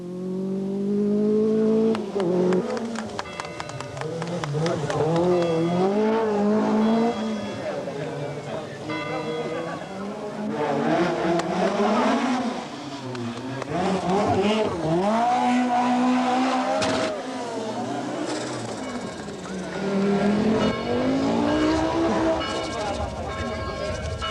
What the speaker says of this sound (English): The 205 Turbo 16 is an out-and-out racing machine, uncompromisingly designed for the demands of the sport.